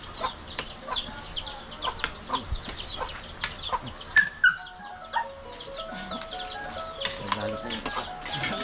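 Chickens cluck in a rural Filipino yard, a busy layer of short, repeated calls and chirps with a few louder squawks, ongoing outdoors at moderate distance with faint voices in the background.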